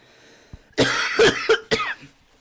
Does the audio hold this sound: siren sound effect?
no